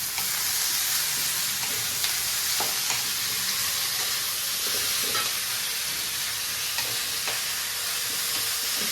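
Wood apple (kaitha) vegetable frying with lightly browned onions in a pan, giving a steady, dense sizzle and hiss with occasional stirring clicks, close and continuous with no talking.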